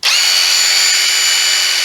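An impact driver fitted with a 3-inch fan blower attachment runs loud and steady from start to finish, a continuous high whir and whine with no pauses and no voices.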